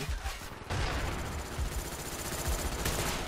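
Rapid bursts of automatic gunfire in the Black Ops first-person shooter game, sharp rattling shots repeating densely across the moment at close range, with no voices.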